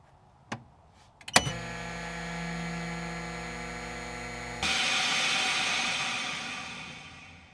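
A VAC 100 chamber vacuum sealer clicks on and hums with a steady tonal motor drone, then shifts to a louder, hissier pump rush before gradually fading out.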